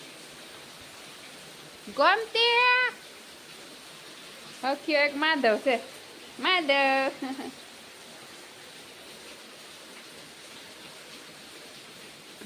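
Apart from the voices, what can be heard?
heavy rain falling at cow shelter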